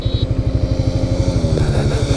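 A Suzuki GSX-S 150, a 150cc naked motorcycle, is ridden fast, its engine giving a loud, steady pulsing drone with rapid rhythmic firing beats throughout, close and without any talk.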